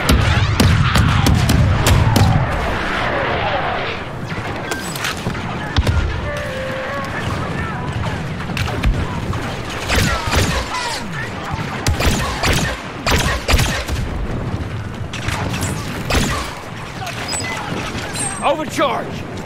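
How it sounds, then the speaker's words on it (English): Artillery strike called onto a marked position in Star Wars Battlefront 2's Starkiller Base battle: a dense run of heavy thuds and blasts over continuous gunfire and battlefield din, with muffled voices in the mix. "Fire mission on these coordinates."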